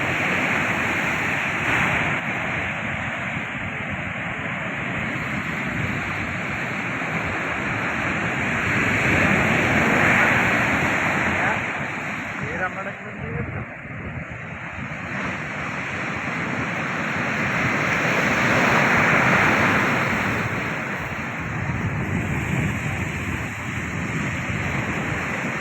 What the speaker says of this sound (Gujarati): જોઈ શકો છો દરિયાનું તાણ.